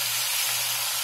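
A hot pot gives off a steady, loud steam hiss as cabbage and carrots go in for a steamed cabbage and dumpling dinner, an unbroken rush with no talk over it.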